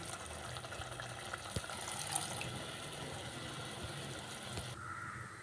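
Water poured into a simmering masala for plain kuska, a steady broad wash of liquid filling a pan for about five seconds, close and moderately loud, ending with a quieter bubbling.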